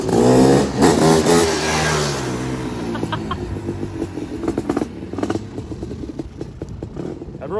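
Honda CR500 two-stroke trike engine with tall gearing revs loudly and close, a buzzy roar that swells in the first two seconds, then falls to a rougher, choppier idle-like rasp with intermittent bursts.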